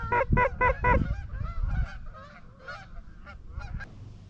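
Several geese honk loudly over an open field during an early-season goose hunt, a burst of close, rapid calls that thins into scattered, more distant honks.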